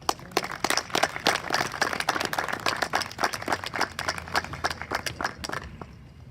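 Audience applause at an 8th grade promotion ceremony at a male STEAM academy, a steady crowd of hands clapping in sharp, dense bursts that taper off at the end.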